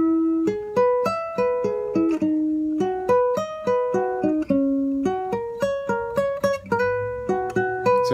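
Guitar introduction phrase, a steady run of clean single plucked notes and short repeated pairs in a lilting rhythm, close and clear with no voices.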